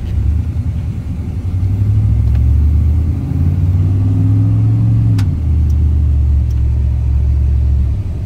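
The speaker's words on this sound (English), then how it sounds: "I'll turn the air down a click for you folks out there so you can actually hear the truck." A 1995 Chevrolet C/K 1500 4x4 pickup truck's engine rumbles steadily, its low drone rising and falling as it revs and accelerates, then settles back to a constant cruise, close and loud with no talk.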